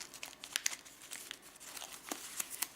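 Regular computer printer paper folded into an origami dolphin, giving close, crisp crinkles and rustles in quick irregular bursts.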